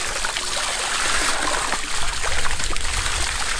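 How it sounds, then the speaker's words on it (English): Clear water pours steadily from the outlet of a hybrid siphon pump, a continuous trickling and splashing flow close to the microphone with no talk over it. "The water is still coming."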